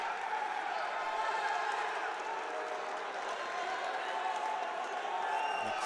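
A steady crowd roars and cheers throughout a college wrestling dual meet between NC State and Army, a dense continuous wash of noise with no breaks, fairly distant and even.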